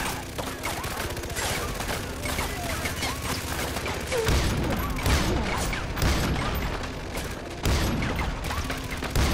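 Sniper rifle fire in Far Cry 4, with dense, repeated gunshots and mechanical clatter running over a continuous noisy battle bed, with sharp louder blasts near the middle and end.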